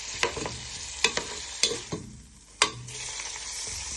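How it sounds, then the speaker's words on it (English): Prawns, chorizo and bacon frying for a stew, broken apart with a wooden spoon: a steady sizzle with several sharp knocks and scrapes from the spoon against the pan, close by. "Just break them apart with your wooden spoon. You want these to cook for a few minutes."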